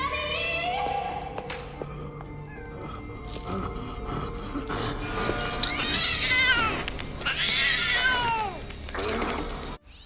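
A cat in a horror film lets out several drawn-out, rising and falling meows and wails, close and fairly loud, over quiet rustling and scraping, the cries getting louder toward the end.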